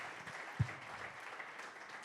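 A small audience at a live chat event applauds a South African rapper with soft, scattered clapping at some distance and one louder thump near the start, without talk.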